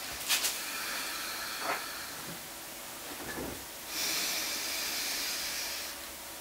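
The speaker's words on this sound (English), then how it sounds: "And then exhale." A long, steady breath is exhaled during a full-body lock while sitting upright in yoga, heard as soft breathy hiss in bursts with a longer sustained exhale late on, close and quiet, with no talking.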